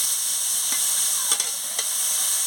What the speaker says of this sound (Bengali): এই যে দেখুন, ভালো করে ভেজে নিচ্ছি।